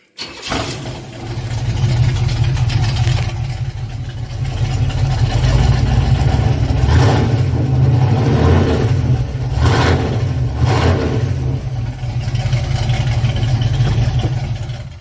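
A Chevy Blueprint crate engine runs steadily to warm its oil, a continuous low rumble holding nearly constant for the whole stretch with slight swells and no speech over it.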